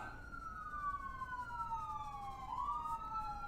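An emergency vehicle siren wails outside, its rising and falling tone steady and moderately distant over low traffic rumble.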